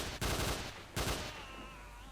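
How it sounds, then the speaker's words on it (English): Two close gunshots fired from the hip in S.T.A.L.K.E.R. Shadow of Chernobyl with the OGSE mod, sharp loud bangs about three-quarters of a second apart, each trailing a short echoing decay. "Just shooting from the hip there."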